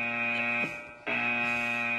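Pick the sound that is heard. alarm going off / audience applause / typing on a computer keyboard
alarm going off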